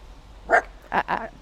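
A Maltese dog barks indoors, three or four short, sharp yaps in an uneven burst at close range, with quiet pauses between them and no talking.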